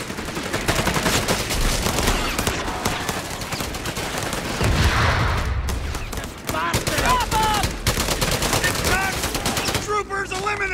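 Dense machine-gun and rifle fire in a Company of Heroes 3 cutscene battle, continuous loud bursts with heavy rumbling impacts, and a voice shouting briefly partway through.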